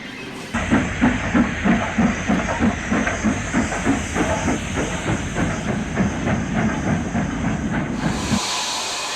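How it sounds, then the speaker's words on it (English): LMS steam locomotive City of Liverpool reversing past carriage and wagon works, a close, loud rhythmic chuffing of exhaust beats over constant steam hiss, with faint wheel clatter, ending abruptly. "City of Liverpool reverses past the carriage and wagon works en route to collect its train"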